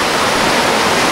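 Saob Waterfall in the Philippines roars with a steady, dense rush of falling water, loud and close throughout with no letup.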